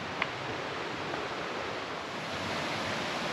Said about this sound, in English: You always got the creek there to the side too, to listen to, through the trees